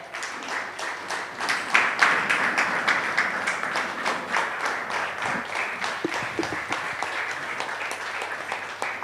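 Audience applause welcoming a guest speaker to an interview session on a healthy-lifestyle foundation, a dense, steady clapping from many hands sustained throughout, fairly close and loud with no talk over it.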